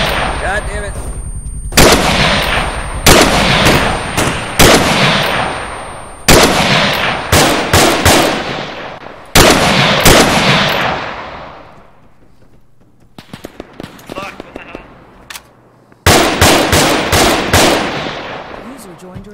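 Loud, close blank gunfire from a WW2 reenactment battle: bursts of rapid automatic fire and single rifle shots with pauses between, more distant shots in a lull, then heavy firing again.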